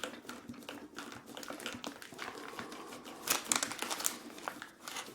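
Crinkling plastic bag of Gustaf's black licorice laces being cut open, with close, soft rustling and snipping that swells louder in brief crackling bursts midway.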